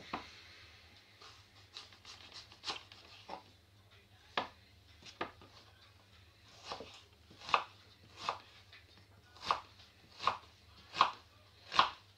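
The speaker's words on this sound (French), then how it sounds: "émincer les oignons" Onions being sliced with a knife on a board, quiet irregular cuts at first that settle into a regular series of sharper chops toward the end, close and alone with no talk.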